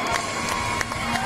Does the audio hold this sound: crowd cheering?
yes